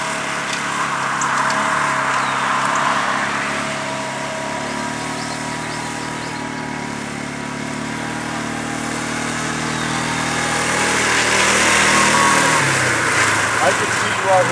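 Engine drone of a four-wheeler towing a 1960s pull-behind lawn mower across a muddy back field, a steady mid-distance hum that swells slightly toward the end, with people talking over it.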